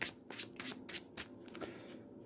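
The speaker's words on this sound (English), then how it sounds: "Let's give it a shuffle." A deck of Marvel Champions cards gets riffled and bridged by hand, a quick series of crisp, fluttering bursts close to the microphone, quiet and with no talking over it.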